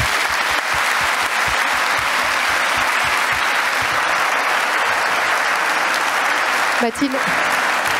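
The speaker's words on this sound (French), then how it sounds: "Je pense qu'on peut vous applaudir" Audience applause for students at a student prize ceremony, a dense, steady clapping of many hands at close range throughout, with a brief spoken name near the end.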